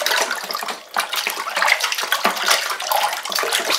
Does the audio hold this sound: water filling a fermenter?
yes